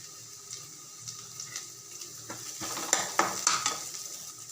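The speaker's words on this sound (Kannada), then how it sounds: "ಈರುಳ್ಳಿ ಫ್ರೈ ಆದಮೇಲೆ ಕರಿಬೇವು ಹಾಕೊಳ್ಳೋಣ." Onions and curry leaves frying in hot oil while being stirred, a soft continuous sizzle with scraping spoon strokes and a few sharper clinks toward the end.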